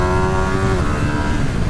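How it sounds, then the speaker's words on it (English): The Superquadro engine of a Ducati Streetfighter V2 motorcycle revs up close and loud, a rough throbbing growl whose tone rises and then settles in a brief burst. "This is the Super Quadro engine,"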